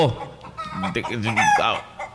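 Chickens cluck in a rapid, uneven run while a rooster's drawn-out crow rises above them, loud and close. The farm fowl are treated with Panamox, and a voice sits faintly underneath.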